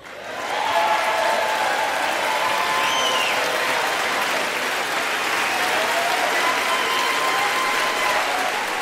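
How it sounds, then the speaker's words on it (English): Sustained applause from lawmakers in the chamber at a State of the Union address, a dense, loud wash of clapping that swells in within the first second and holds steady throughout, with faint voices mixed in. "we've had Democrats applauding, Republicans sitting down"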